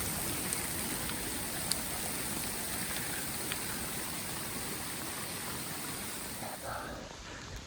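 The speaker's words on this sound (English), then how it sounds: "It's hail." Hail falls during a thunderstorm outdoors and makes a dense, unbroken patter of ice striking the ground. The sound is close and steady from start to finish, with a few sharper impacts standing out.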